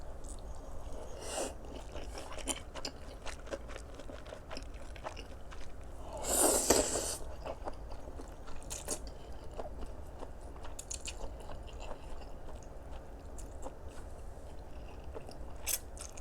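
Someone eating dumplings with spicy cold noodles, soft close-up chewing and biting sounds, with one louder crunchy bite in the middle, no talking.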